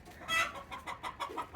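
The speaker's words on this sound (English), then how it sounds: "Oh, somebody's laying an egg. I did not know chickens were so loud when they laid eggs." A backyard hen gives a loud, agitated run of clucks while laying an egg, close by with repeated bursts and no talking.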